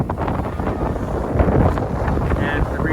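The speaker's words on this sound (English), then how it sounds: "The wind just came up." Wind gusting across the microphone aboard a sailboat at sea off Mexico's Pacific coast, a continuous low rumbling buffet with surging gusts and faint water wash beneath.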